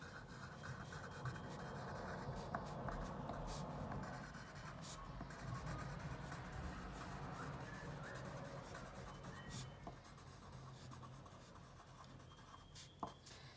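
A teacher writes on a board during a 7th-grade maths lesson, with steady scratching and rubbing strokes running almost continuously and fairly close, broken by brief taps.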